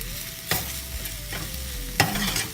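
Tomatoes cooking with minced meat are stirred in a frying pan, a soft sizzle broken by two sharp scrapes of a spoon against the pan.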